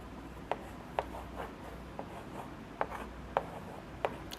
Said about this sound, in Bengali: আমি এই অ্যারো সাইনটা মুছে ঠিক করে আঁকছি একটু এটাকে